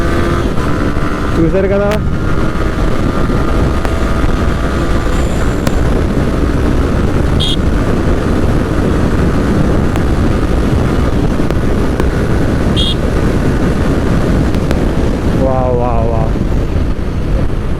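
Yamaha R15 V3 sport bike riding along, a loud steady engine and wind drone running throughout with brief gear-shift pitch sweeps near the start and end, someone talking over it briefly.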